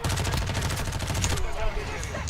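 Rapid automatic gunfire in Warzone 2, a dense stream of shots for over a second that cuts off abruptly, followed by quieter scattered game sounds and faint speech.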